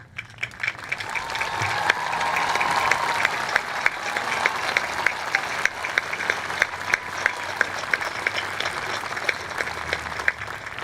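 Sustained applause from a high school graduation ceremony crowd as first-generation graduates stand, dense steady clapping lasting throughout with a few sharper nearby claps.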